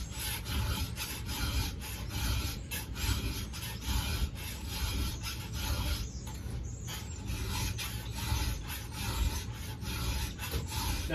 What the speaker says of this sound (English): I can file from the top of the saw, hit both sides